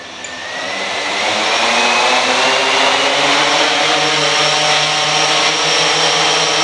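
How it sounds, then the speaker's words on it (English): Blade 350 QX quadcopter in flight, its rotors giving a loud steady buzzing whine with shifting pitch, close and continuous after a quick spin-up, no talk. "The way you start the rotors is you move the stick to the right, then left, and away we go"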